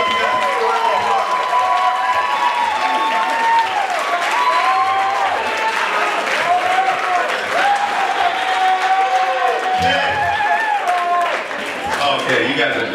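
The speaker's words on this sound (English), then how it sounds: "Make a round of applause for yourself, you guys." An audience at a coffee house performance applauds and cheers, steady clapping filling the room with a bright, dense wash that fades slightly near the end.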